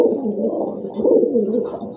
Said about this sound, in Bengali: খুব সুন্দর এক জোড়া কবুতর